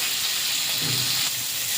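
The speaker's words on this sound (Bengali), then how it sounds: "আলুটা হালকা ভাজা ভাজা করে নিয়েছি।" Lightly fried potatoes in a pan for a home-style potato and vegetable curry, a soft steady sizzling hiss with a brief stirring scrape, close and unaccompanied by speech.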